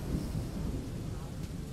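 Thunder rumbles low beneath a steady wash of heavy rain, a continuous close downpour with no pauses over a brief stretch.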